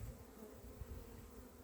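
Honey bees buzz around an open hive in spring, a dense, continuous drone of many insects close by, quiet overall and with no talking.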